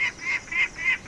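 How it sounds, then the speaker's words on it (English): A peregrine falcon calls out over woodland, four evenly spaced, sharp, loud calls repeated in a steady rhythm with no talking. "That's the peregrine falcon."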